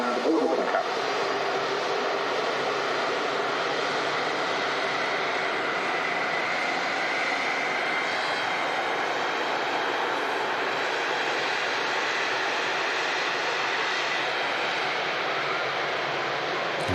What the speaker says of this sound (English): the TUI Dreamliner begins its takeoff roll